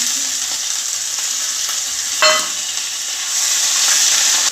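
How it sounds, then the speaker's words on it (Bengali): Onions frying in plenty of hot oil as ginger, garlic and onion paste go in for a Bengali oil koi fish curry, a steady close sizzle with a brief stirring clatter and the hiss swelling toward the end, no voices. "পেঁয়াজটা ভাজা হয়েছে, এর মধ্যে আদা রসুন পেঁয়াজ বাটা দিয়ে দেবো"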